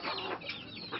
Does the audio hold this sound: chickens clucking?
yes